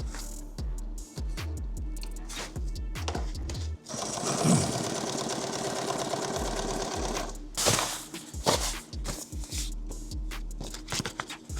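A sewing machine stitches a shooting mat in rapid mechanical bursts, starting and stopping with a long steady run in the middle, close and clear with no talk.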